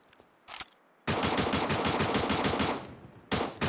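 Automatic weapon fire in the Cyber Hunter game: a short opening burst, then a long rapid stream of loud, close shots, a brief pause and another burst at the end.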